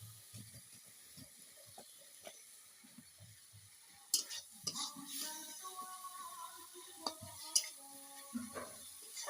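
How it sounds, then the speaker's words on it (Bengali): Spice paste is stirred and fried in a pan, faint soft sizzling with light scraping and clinks of a utensil, quiet at first and busier in the second half. "মশলাটা ভালো করে কষিয়ে নেব"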